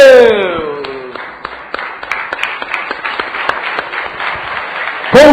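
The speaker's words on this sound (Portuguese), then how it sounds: "Larguem a Bíblia e aplaudem a Deus" Church congregation clapping to praise God, a dense run of rhythmic handclaps under sung or spoken voices that rise at the start and end, loud and close throughout.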